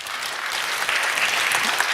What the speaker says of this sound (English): A warm applause for André Holzapfel.